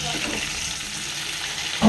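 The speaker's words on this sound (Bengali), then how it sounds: "এবার আমি ফুলকপিটা দিলাম, ফুলকপিটাকে ভেজে নেব।" Cauliflower fries in hot oil in a pan for a Bengali tilapia curry, a steady close sizzle that ends with a short bump.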